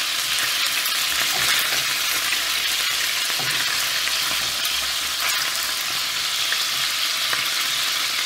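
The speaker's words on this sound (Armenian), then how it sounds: "մի երեսից կտապակեմ, մի երեսից էսպես կշարեմ, կսպասեմ մի երեսը կտապակվի" Pork pieces fry in a pan, one side at a time, with a loud, dense, unbroken sizzle close by and a few faint scrapes and pops through it.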